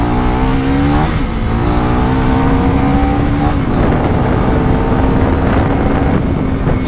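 A Husqvarna Svartpilen 401 motorcycle engine drones loudly while riding, its pitch rising and shifting with revs, over heavy wind buffeting on the microphone.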